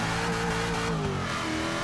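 A supercharged Ford Mustang GT500 with cam, intake and exhaust upgrades revs hard in the Forza 6 racing game, a loud, steady, close engine roar with the pitch climbing and easing slightly across a brief burst.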